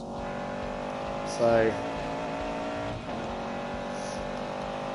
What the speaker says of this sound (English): The engine noises are alright.